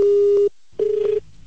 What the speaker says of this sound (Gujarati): કાપી નાખ્યો ફોન તમે